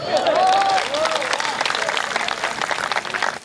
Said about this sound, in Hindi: तालियां अब भी कम रह गई हैं, अगली बात पे तालियां थोड़ी और बड़ी कर दीजिएगा